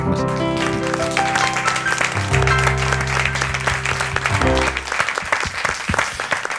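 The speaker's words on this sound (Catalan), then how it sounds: "Un aplaudiment." Applause from the audience at a literary talk in Mollerussa, heard under sustained music for most of the clip, then dense clapping continuing alone toward the end.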